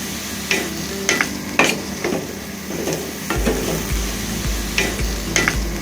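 Cut bottle gourd with salt and spices stirred in a pan, making rhythmic spatula scrapes and knocks every half second or so over a constant sizzle, with a low hum joining partway through.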